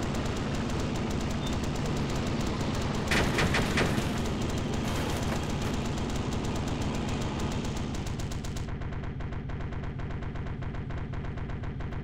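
Sustained automatic gunfire rattles through a battle in the military shooter Arma 2 on the Utes map, with a dense burst of heavier shots around the three-second mark and the firing continuing steadily afterward.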